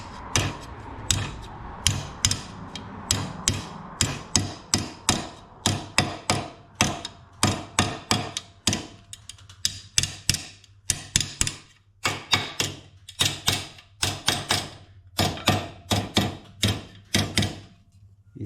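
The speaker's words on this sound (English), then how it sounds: "You see what I mean about needing room to hammer around the jig." Dense run of sharp hammer blows on metal, shaping a bonnet hinge around a jig for a pre-war Riley Brooklands, struck in quick irregular bursts then steadier spaced strikes, close and loud with a faint hum beneath.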